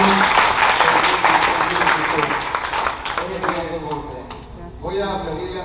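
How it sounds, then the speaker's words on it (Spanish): A church congregation applauds during a Spanish-language service, a dense burst of clapping that fades over a few seconds and then swells briefly again. "den un aplauso al Señor por eso"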